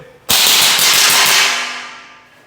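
A DSG gel blaster firing full auto through a chronograph, one loud close rapid burst of snapping shots that fades out over about two seconds.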